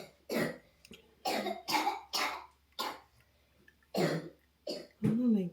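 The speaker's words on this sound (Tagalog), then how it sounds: "ang ubo niya ay nakakainit" A series of about eight harsh coughs, spaced irregularly over several seconds, close and moderately loud with quiet gaps between.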